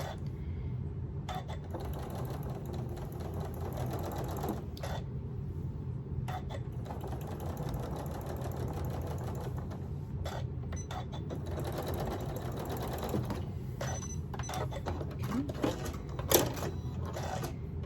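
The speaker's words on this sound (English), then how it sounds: "And I am sewing 1/4 of an inch." A sewing machine stitches a quarter-inch seam on the ear of a stuffed elephant toy, running as a steady, continuous mechanical whir at close range throughout, with no talk over it.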